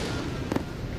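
Daytime fireworks pop twice in quick succession at a distance, a short sharp burst over a steady outdoor background, with a fainter crack following shortly after.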